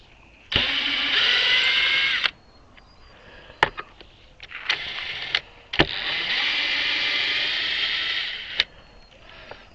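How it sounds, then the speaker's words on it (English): A handheld power drill runs in two sustained bursts of roughly two and three seconds, close and loud, with clicks and short clunks of handling in between, during work on a homemade wind generator. "Alright, I got my drill."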